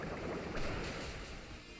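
Water Pulse attack from the Pokemon Penumbra Moon video game: a brief rushing, surf-like wash of water that swells slightly midway and holds steady for about two seconds, with no voices.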